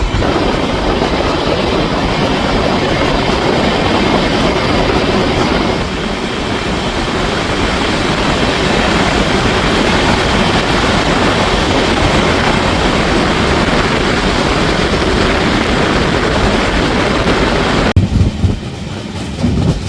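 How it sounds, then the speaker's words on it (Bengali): Black Diamond Express with new LHB coaches runs on rails out of Sheoraphuli Junction toward Bandel, a loud steady rumble with wheel clatter filling the whole stretch before it briefly thins near the end. "ট্রেন আমাদের ছেড়ে দিল শেওড়াফুলি জংশন"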